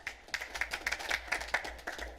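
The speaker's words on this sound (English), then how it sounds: "we should do a little round of applause" A small round of applause at a city commission meeting, faint and brief, with scattered hand claps from a modest group for about two seconds.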